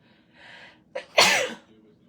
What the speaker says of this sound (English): I'm about to sneeze, y'all.